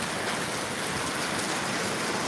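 Steady rainfall drums on an open terrace, a dense constant spatter of drops hitting hard ground nearby, uninterrupted and without voices.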